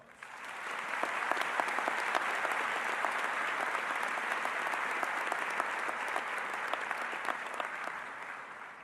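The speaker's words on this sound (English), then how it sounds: "Let's give all of our graduates a round of applause" Steady, broad applause from a large audience for graduates at a spring college commencement ceremony, swelling quickly and holding evenly for several seconds before beginning to fade.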